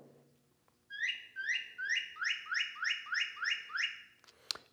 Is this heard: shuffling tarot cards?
no